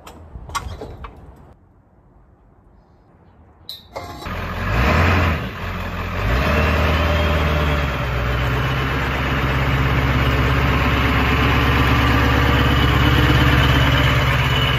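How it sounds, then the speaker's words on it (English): A Ford OBS truck engine cranks with a few sharp clicks, catches loudly and settles into a steady, rumbling idle that stays close and constant for over ten seconds, with no voices. "we are ready to put the tires on and fire this thing up"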